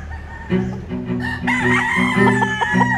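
Sweater-breed gamecock rooster at a game farm, crowing loudly and close by in one drawn-out call, with clucking and other fowl sounds around it.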